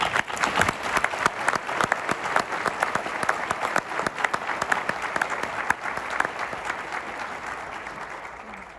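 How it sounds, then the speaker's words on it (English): Audience applause at a national conference on inner-city competitiveness, lively crisp clapping from many hands that holds steady and then gradually fades toward the end. "we haven't had a round of applause for Steve Grossman, but we're going to have it now."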